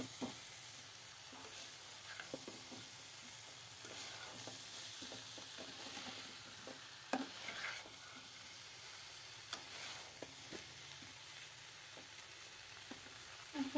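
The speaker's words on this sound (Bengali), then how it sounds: "সব কিছু একসাথে মিশিয়ে নিলাম।" Chicken curry with new potatoes and winter cauliflower is stirred in a pan, quiet scraping and soft clinks of a spoon against the pan over a faint continuous sizzle, with occasional sharper knocks, and no talking.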